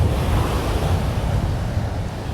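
Atlantic Ocean surf on Juno Beach, Florida, a continuous close roar of breaking waves mixed with heavy wind buffeting the microphone.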